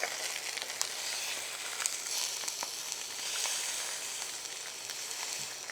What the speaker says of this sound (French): on n'oublie pas qu'on a les jarrets de veau qui sont en train de cuire